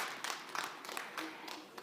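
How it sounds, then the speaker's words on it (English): Audience applause at a climate change special session honoring Indonesia's Minister of Public Works and Housing, a faint, fairly sparse patter of claps with a few sharper individual hits across a short burst. "Let's give a big round of applause."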